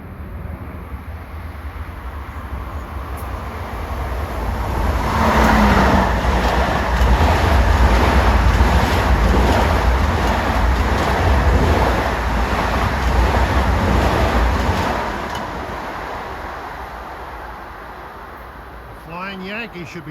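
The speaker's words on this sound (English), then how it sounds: "Here comes train 1967, Ronkonkoma to Penn Station" An LIRR commuter train running west from Ronkonkoma to Penn Station on triple track at twilight swells from a distant rumble into a loud, steady roar with rhythmic wheel clatter, then fades as it moves away.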